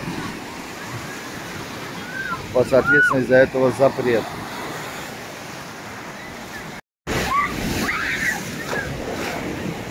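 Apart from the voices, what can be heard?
sea waves at a beach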